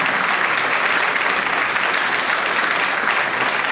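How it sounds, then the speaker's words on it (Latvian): Steady applause from a concert audience at a folk dance group's 50th anniversary in Ozolnieki, dense clapping sustained evenly throughout without a break. "Aplausi Lolitai."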